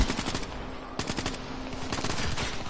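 Rapid automatic gunfire from a favourite weapon in the video game Black Ops 3, loud, dense bursts that pause briefly and then resume, with no speech over them.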